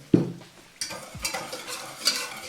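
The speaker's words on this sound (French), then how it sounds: "en remuant pour tout bien incorporer dedans" Spoon stirring pressed lemon juice into sugar in a bowl for a lemon meringue tart, a few soft scraping strokes with clinks, close and alone without talk.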